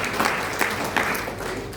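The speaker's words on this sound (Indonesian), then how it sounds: "Kasih tepuk tangan yang meriah bagi Tuhan" A church congregation at a worship service in Makassar, Indonesia, claps in a brief, lively burst of applause, with a few louder claps standing out.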